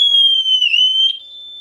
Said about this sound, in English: It's got the most annoying alarm system you've ever heard